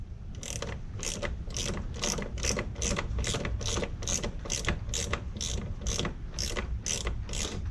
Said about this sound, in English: Where's the ratchet?